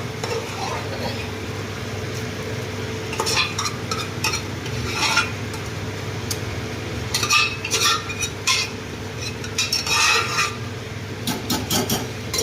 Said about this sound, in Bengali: এবার এটা দিয়ে একটু নাড়াচাড়া একটু কষিয়ে নেবো ডালটা।